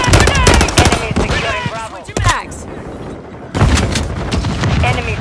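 Rapid gunfire and a grenade blast in Call of Duty Modern Warfare III, loud and dense bursts with a sharp boom near the two-second mark and a brief lull, while game voice callouts talk over the action.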